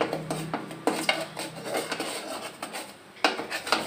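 A puffed rice mixture is stirred by hand in a pan over medium heat, making repeated close scraping and rustling strokes against the metal with no talking.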